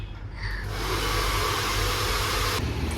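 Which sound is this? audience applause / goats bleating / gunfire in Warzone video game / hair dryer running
hair dryer running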